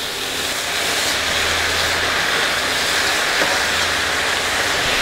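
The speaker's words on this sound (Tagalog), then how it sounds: "Gigisahin lang natin ito hanggang sa maluto yung pork" Minced pork sautéing in a pan, a loud continuous broadband sizzle and hiss that runs evenly throughout with a low rumble underneath, no talking.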